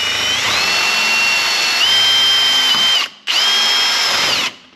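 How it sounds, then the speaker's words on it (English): A power drill with a half-inch bit bores through a metal clamp hole, whining loudly and close with a rising pitch, stopping briefly then running again before cutting off. "I had to widen the hole where this nut is, the hole in the clamp, with a 1/2-inch drill bit"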